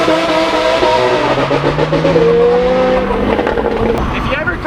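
An Audi R8 launches hard, its engine revving loudly and rising in pitch as the tires squeal, close and continuous under a voice.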